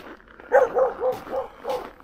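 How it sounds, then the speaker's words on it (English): A dog barks in a Norwegian forest at sunset, five short, fairly close barks in a loose rhythm, with no talking over them. "I got greeted by an infamous Norwegian dog"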